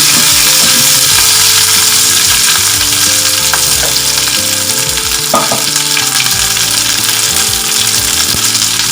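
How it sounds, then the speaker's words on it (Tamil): Shallots sauté in a hot pan for garlic chutney, giving a loud, steady sizzle throughout with a few sharp scraping clicks of a spatula stirring against the metal. "நல்லா வதக்கிக்கோங்க."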